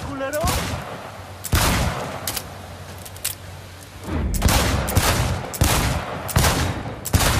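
Gunfire at a stadium shooting range in Cyberpunk 2077, with sharp, loud individual shots fired in irregular bursts over several seconds, close by, separated by brief quieter gaps.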